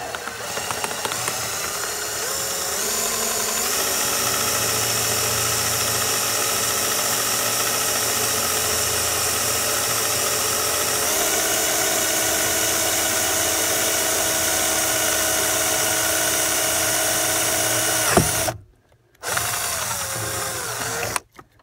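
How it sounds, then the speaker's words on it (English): A power drill whines steadily and loudly for a long stretch, boring a hole in a Mercedes W203 steering column, its pitch shifting slightly, then cuts off briefly and restarts near the end. "Put the drill in there."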